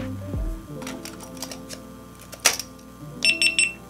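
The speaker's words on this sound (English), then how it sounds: "that's one thing I always turn off is that beeping" A GoPro Hero 9 camera powers up with a short series of high, bright electronic beeps near the end. Soft handling clicks and a faint low hum come before them.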